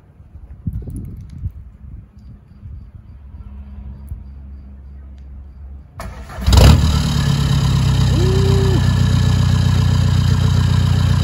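A VW Polo TDI diesel engine cranks and fires about six seconds in. It gives a sharp loud catch, then settles into a steady, loud idle close by, after quiet background noise.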